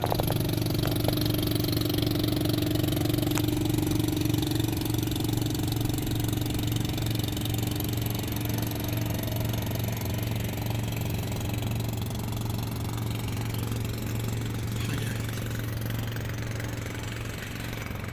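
A boat engine drones nearby at the Manila Bay reclamation area, a steady low hum with a throbbing beat that stays constant, fading slightly toward the end.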